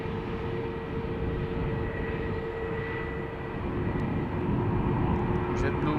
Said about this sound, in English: KLM's A330-300 to New York JFK flight 641